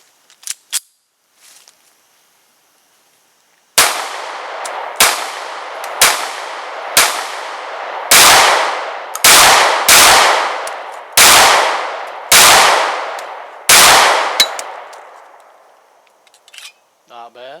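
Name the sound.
Para-Ordnance P-12 pistol shots fired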